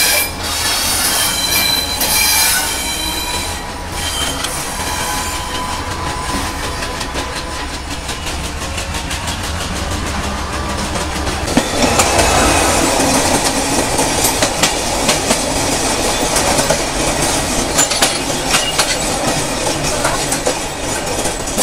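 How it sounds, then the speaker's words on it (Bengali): Banglabandha Express pulling out of Pirganj station, with loud metallic wheel squeal ringing over rumbling rail noise and a building clickety-clack of wheels on track joints, heard close from on board. "আর আমাদের ট্রেন ছেড়ে যাচ্ছে পীরগঞ্জ স্টেশন থেকে"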